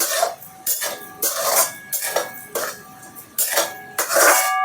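A heavy thick iron kadhai is set down and shifted on a stove, with several sharp metallic clanks and ringing scrapes in uneven bursts, close and fairly loud.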